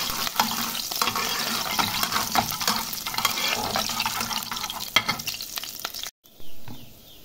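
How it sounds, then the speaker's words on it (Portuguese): A little garlic frying in oil in a pot for a fish broth: a dense, continuous crackling hiss broken by stirring. It stops briefly near the end, then a short watery rush follows. "Levei a panela no fogo, coloquei um pouquinho de óleo, botei um pouquinho de alho"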